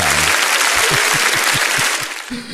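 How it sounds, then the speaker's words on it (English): Brisk, close applause at a Scotch whisky tasting event fills the short clip, with a few low thumps pulsing underneath and a voice starting at the very end. "we give a round of applause for Scotch"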